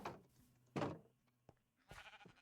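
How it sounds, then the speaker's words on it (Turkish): A few sheep bleat in a modded survival video game, short, separate calls, quiet and clear, with a soft thump between them. "Ne güzel koyunlar lan."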